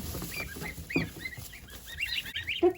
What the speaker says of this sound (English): The ducks and geese are mucky pups today.